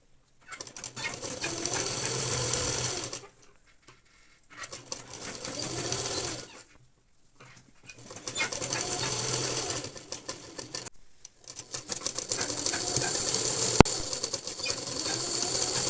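Bursts of a sewing machine stitching a kurta neckline, four runs of rapid mechanical whirring separated by short silent pauses, close and clear with no talking.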